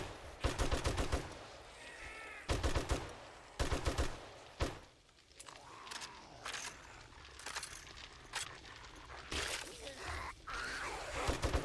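Bursts of gunfire in the survival game 7 Days to Die during a desert Horde Night, sharp repeated shots in rapid clusters with quieter gaps and faint game ambience between volleys.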